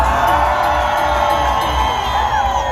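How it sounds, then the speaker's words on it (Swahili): A large, excited gathering at a church service cheers and ululates in a loud, unbroken wall of voices with high trilling calls woven through, close and continuous. "Nataka nisikie shangwe vigelegele kwa Mwenyezi Mungu"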